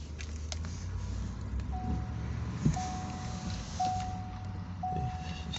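A 5.0 V8 in a third-generation Ford F150 with over 100,000 miles idles steadily, a low, even rumble heard from inside the cab alongside faint road and cabin noise, with repeated soft chimes above it.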